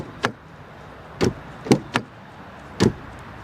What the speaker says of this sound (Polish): klamka, która dość szybko i tak w blaszany sposób wraca do drzwi